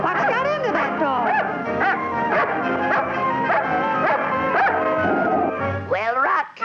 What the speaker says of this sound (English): You're growling at me.